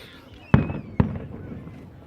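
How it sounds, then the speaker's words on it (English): Two sharp fireworks bangs go off about half a second apart at some distance, each with a short rumbling tail, over quiet background. "Do you like the fireworks?"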